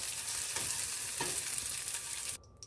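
Onion sautés in a pan for low-carb spaghetti, a steady crackling sizzle with a couple of stirring scrapes, cutting off abruptly near the end to near silence.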